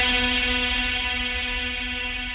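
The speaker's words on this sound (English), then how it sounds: "Then add the reverb." A sustained synth bass tone built in the Serum synthesizer, rich and harmonic with distortion, washed in a long reverb tail that holds steady and fades slowly, playing alone.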